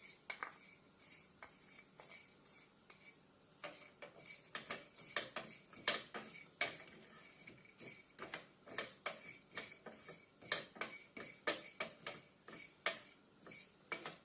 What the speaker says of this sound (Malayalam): പയ്യെ ഇത് ഇളക്കി കൊടുക്കാം. ഒരു ചെറിയ സ്ലൈറ്റ് ബ്രൗൺ ആവണ വരെ ഇത് റോസ്റ്റ് ചെയ്യാം.